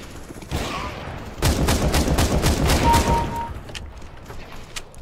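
Rapid gunfire in the video game Counter-Strike: loud, dense bursts of repeated shots fill the middle of the clip, then thin out into scattered fainter reports against a steady game background.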